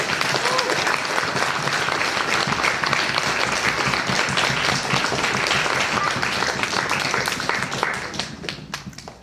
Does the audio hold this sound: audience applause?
yes